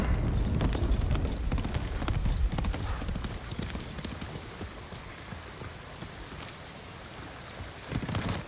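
Horse hooves pounding in the video game Ghost of Tsushima, a fast rhythmic clip-clop of galloping that is loud at first, then settles lower and steadier, with a brief swell near the end.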